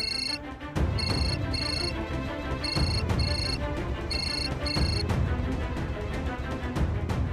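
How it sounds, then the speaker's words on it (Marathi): A telephone rings on an outgoing call, with bright repeated double-burst trills spaced evenly over a low background murmur, fairly close and clear. "मी राणाला फोन लावतो"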